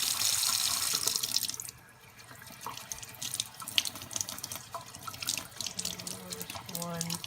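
Water from a tap splashes loudly over Dendrobium orchid moss to flush out mealybugs, then drops to softer trickling and dripping with scattered handling noises.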